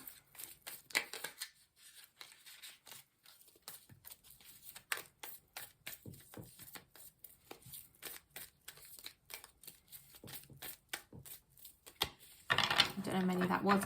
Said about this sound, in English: 3 more shuffles please